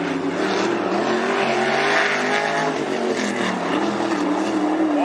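A sprint car in the Interstate Sprint Series runs a lap at Sunset Speedway, its engine a loud, sustained high-pitched roar with shifting pitch as it revs, heard close and continuous.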